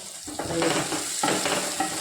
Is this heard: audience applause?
no